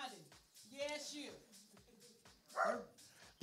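A person imitates a dog barking, giving a string of short, voiced woofs and yips in an uneven rhythm, close and fairly loud, followed by a louder, higher yelp near the end.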